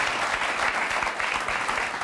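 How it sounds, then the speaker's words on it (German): Steady applause from a studio audience on a cooking show fills the whole moment, a dense even patter of clapping with no voices over it. "ja, Applaus ist nicht verkehrt."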